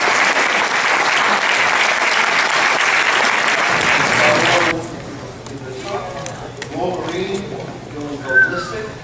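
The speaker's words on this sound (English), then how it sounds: "let's give a round of applause to Frank" An audience applauds at a convention drawing event: steady, loud clapping for several seconds that then cuts off, followed by voices talking in the room.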